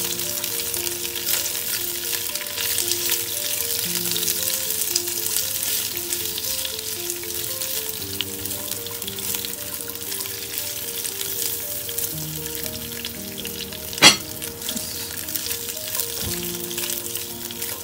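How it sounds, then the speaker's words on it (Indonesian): Turmeric leaves, lime leaves, asam kandis and ground galangal sizzling steadily in hot oil while stir-fried for goat leg curry, with one sharp utensil clack partway through. "Nah, ini ditumis dulu sampai dia layu"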